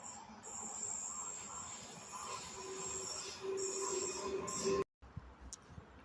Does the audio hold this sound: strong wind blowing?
no